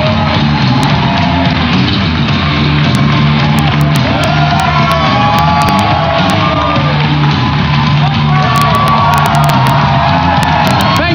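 A large crowd at Bethesda's E3 2018 presentation cheers and whoops loudly and without pause, with scattered shouts rising above the steady roar.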